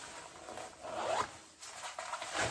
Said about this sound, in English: the Alpkit has a pocket on the side, very easy to zip up, zip down